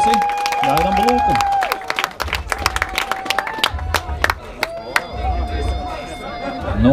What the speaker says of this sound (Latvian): Ļoti skaļi aplausi.